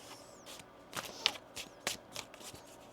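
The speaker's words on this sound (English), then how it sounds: "One more shuffle here." A deck of tarot cards is shuffled by hand in a quiet room, with a few soft riffles and crisp flicks at irregular moments, close and fairly faint.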